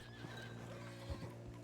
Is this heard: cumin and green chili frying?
no